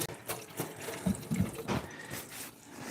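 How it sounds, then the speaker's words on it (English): Tap water runs while hands are washed under it, a close splashing and trickling with uneven surges as the hands move through the stream. "I'm going to go ahead and definitely wash my hands there."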